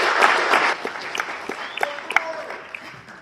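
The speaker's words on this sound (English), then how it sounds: "You've done a great job applauding all the candidates here." Audience at a county political convention applauding, a burst of clapping that starts full and then thins into scattered, fading claps with a few voices in the room.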